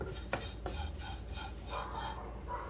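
Poha stirred and roasted in ghee in a pan on medium heat, with steady scraping and clinking of a spoon against the pan, close up and with no talking.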